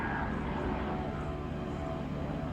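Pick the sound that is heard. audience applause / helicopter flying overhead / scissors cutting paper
helicopter flying overhead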